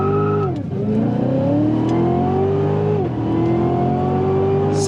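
A 2019 Cadillac CTS-V heard from inside under hard acceleration, its engine roaring loud and rising in pitch through one gear, dipping briefly at a shift, then climbing again toward highway speed.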